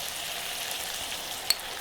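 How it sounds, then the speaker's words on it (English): Garlic frying in a pan gives a soft, steady sizzle, fairly quiet and continuous, with one brief sharp tick near the end. "I do want to cook this garlic a little bit"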